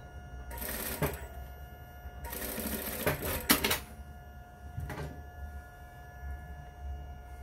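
A sewing machine stitches a 1 cm seam across fabric for a darted bag in several short, faint bursts, with one longer run in the middle, under quiet room tone.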